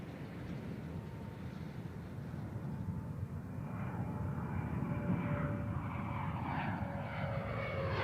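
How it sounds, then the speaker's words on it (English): Space Shuttle Endeavour, mission STS-126 in 2008, rolls down the runway after touchdown as the drag chute deploys. The sound is a steady, broad roar of wind and rumble that builds slightly, heard from a distance. "deploying drag chute that'll help slow Endeavour on the runway"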